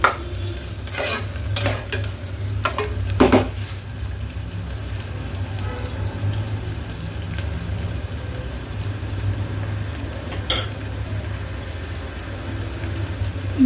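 Peas and fenugreek leaves stir-fried in a pan make a low, continuous sizzle. A few sharp scraping and clanking strokes of a spatula come early, and another comes later.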